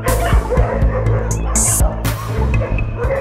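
Several dogs bark and yip repeatedly at close range in an animal shelter on Gran Canaria, a loud, overlapping chorus with whimpers mixed in.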